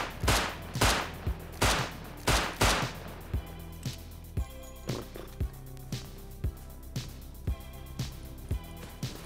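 Gunfire in the survival video game Rust as a player shoots at horses: a burst of loud, booming shots early on, then a steady string of lighter, evenly spaced rounds.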